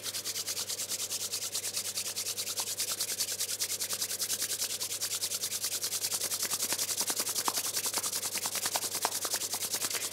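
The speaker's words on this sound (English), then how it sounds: "placing the hands together and really rub them warm" Hands rub briskly together to warm them during a seated yoga session, a steady close swishing friction that goes on throughout at low level.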